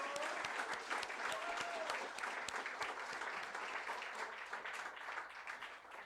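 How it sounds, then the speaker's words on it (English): Crowd of veterans at an evening political rally in Warrington applauding themselves, a sustained burst of many hands clapping with a few sharp individual claps, gradually easing off. "Give yourselves a round of applause."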